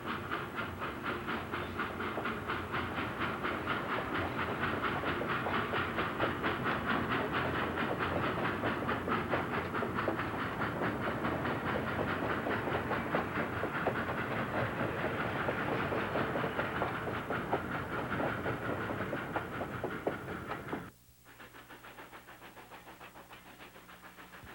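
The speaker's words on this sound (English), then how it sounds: "love this scene as the locomotive rocks and rolls through White Rock" An ET&WNC Tweetsie narrow-gauge locomotive train rolls through White Rock in the mountains, a steady rattling rumble with rhythmic wheel clatter that stops abruptly near the end, leaving a quieter hum.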